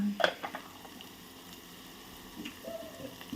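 Onions, corn, curry leaves and green chillies fry lightly in a pan, with a steady soft sizzle and occasional clinks of a stirring utensil against the pan.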